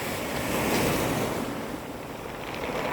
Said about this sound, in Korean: 파도에 돌이 쓸려 내려가는 소리